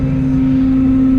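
A Case Puma 240 CVX tractor engine holds a loud, steady droning hum at raised revs in a field, brief and continuous with no talk over it.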